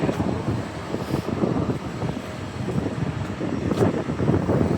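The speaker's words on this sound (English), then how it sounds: "It's kind of windy today." Wind buffets the microphone in a continuous low rumble, gusting unevenly throughout, on a walk from Boston's North End to the Public Garden.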